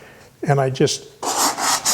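A cabinet scraper draws across wood and lifts shavings in a few short, breathy rasping strokes after a brief spoken word.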